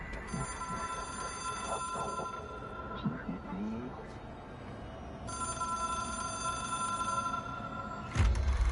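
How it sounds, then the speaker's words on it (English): A phone ringing in the video game Control, its electronic bell sounding in two bursts of repeated tones with a short gap, over a steady game background hum and a low thump at the end. "It is a phone."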